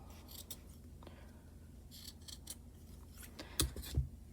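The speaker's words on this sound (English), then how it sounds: "You're just going to go around and cut like this." Scissors cutting around a crochet piece for a baby jacket set, giving soft, close snips and fabric rustling, with a few louder cuts near the end and no talking.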